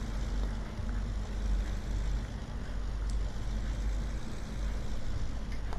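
Tractor fitted with a rotary spader working a field in Farming Simulator 19, Italian hills map: a steady low engine drone with constant mechanical rumble, loud and continuous throughout, no talking.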